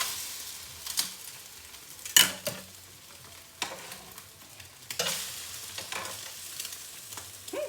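Pancake batter sizzles softly in a hot pan while a spatula scrapes and taps against the metal now and then. The clatter of a kitchen utensil comes in short bursts over the quiet frying.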